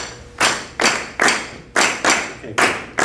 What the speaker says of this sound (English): Everybody clap this with me?